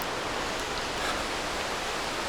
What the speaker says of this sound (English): Except for the river, you hear nothing.